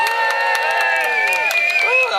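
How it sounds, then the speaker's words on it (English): A crowd at a village feast gymnastics display cheers loudly and steadily, with children's high shouts and whoops rising through the roar for the whole stretch. "I need everybody to cheer as loud as you can now"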